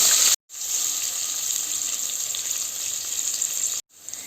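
Sliced onion and split green chillies sizzling in a hot pan, a steady even hiss that cuts out briefly near the start and again near the end.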